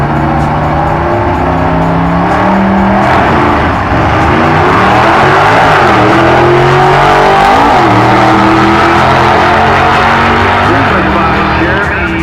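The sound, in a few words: Beretta race car making a drag run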